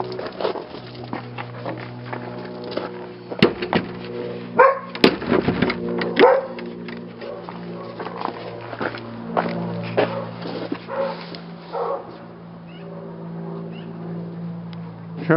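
Dogs barking in a residential yard and out onto a neighborhood street: scattered barks with bursts of louder, sharper barking near the start, set over a steady background hum, with occasional footsteps and brief voices.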